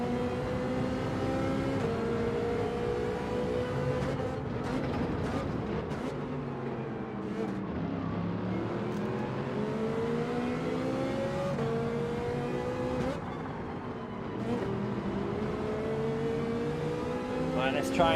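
A Ferrari race car in Gran Turismo 7 drives with a steady engine drone, its pitch rising and dipping through gear changes and corners, while a voice talks faintly underneath.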